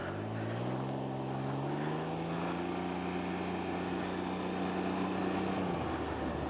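A 2020 Can-Am Ryker with a three-cylinder inline engine pulls away: a fairly faint engine hum rises in pitch over the first two seconds, then holds a steady drone.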